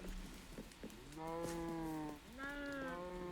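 Several Minecraft cows moo in long, drawn-out calls, two overlapping lowing sounds close by, with faint clicks before them and no talking.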